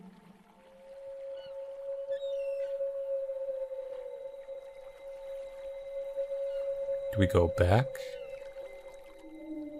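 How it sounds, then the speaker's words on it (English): Mournful whale song from a whale in the video game Sango Tales from the Coral Cave: a long sustained tone that holds steady for several seconds, then a brief louder warbling burst, with a short spoken line over it. "And the whale began to sing."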